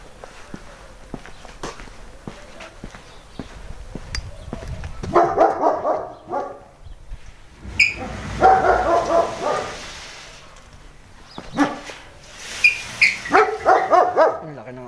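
A big dog barks in short bursts along a farm plot path, a run of loud barks close by with footsteps and shuffling around them.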